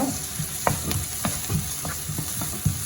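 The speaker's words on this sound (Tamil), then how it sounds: "பூண்டு இஞ்சி வெங்காயம் சரியா இது எல்லாத்தையும் போட்டு ஒரு ஒரு நிமிஷம் இதை வதக்குவோம்" Garlic, ginger and onion are sautéed in a pan, with a lively close sizzle broken by frequent rhythmic spatula scrapes and taps as the mix is stirred.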